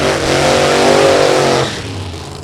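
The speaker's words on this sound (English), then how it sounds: "Alan Johnson Performance Engineering Power Plant underneath the hood of Doug Gordon's car in a 558 in qualifying." A Super Gas drag racing Corvette Roadster with an Alan Johnson Performance Engineering engine accelerates at a Topeka drag strip, a loud sustained engine roar that drops off sharply after about a second and a half.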